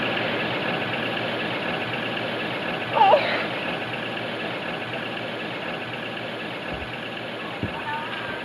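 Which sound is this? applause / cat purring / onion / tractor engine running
tractor engine running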